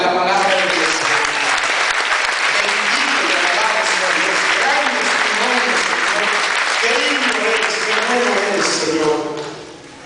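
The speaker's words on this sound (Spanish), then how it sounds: "¿Cuánto aplauden la palabra de Dios?" A church congregation breaks into dense, sustained applause that fills the room steadily for about nine seconds before fading, with faint voices mixed in underneath.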